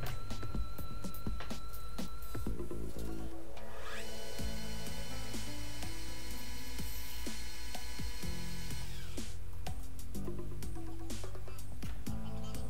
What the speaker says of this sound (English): let's get it back in the lathe and go ahead and face the front of it off.